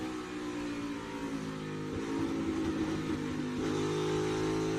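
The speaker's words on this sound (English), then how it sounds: "We're about ready to set the bar here as Hamlin is on his lap." A NASCAR Cup Series car runs a qualifying lap, its engine a steady, droning, high-revving roar that holds constant and swells slightly, heard continuously with no talk.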